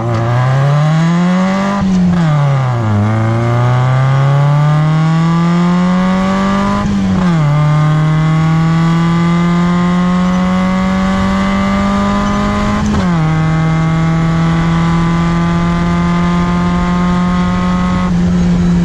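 A Miata-engined kart screams through a quarter-mile run, its loud engine note climbing steadily with sharp dips at each gear shift, close and dominant throughout.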